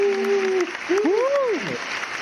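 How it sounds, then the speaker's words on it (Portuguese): A steady bed of recorded crowd applause plays as a sound effect under a voice and swooping whistle-like tones. "Eu vou colocar uma salva de palmas aqui para você."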